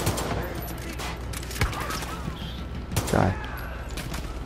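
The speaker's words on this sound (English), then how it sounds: "So there's someone up there who is shooting me" Video game gunfire from Far Cry Arcade, a dense fusillade of rapid shots with a couple of louder booms, heard under a voice speaking briefly.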